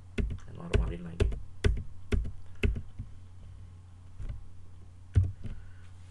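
Keys tapped on a computer keyboard while working in a spreadsheet, a burst of crisp close clicks followed by sparse single presses after a pause, with a low steady hum and a voice talking in between.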